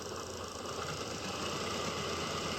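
A GT Power RC car sound system plays a simulated engine through its speaker under light throttle, a dense, continuous rumbling drone with a slight rattling texture, steady and fairly loud.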